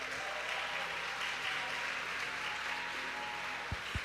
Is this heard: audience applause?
yes